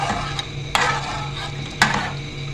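A spoon mixes spiced chicken tikka marinade in a bowl, with soft wet stirring broken by two sharp clinks against the side.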